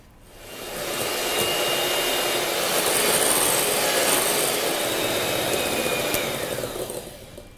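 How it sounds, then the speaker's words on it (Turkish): An electric mixer whips egg whites with powdered sugar into meringue for macarons, a close, steady whirring and rattling drone that rises at the start, holds evenly and fades toward the end. "Önce yavaş ve sonra hızlı devirde çırpmaya başlıyorum."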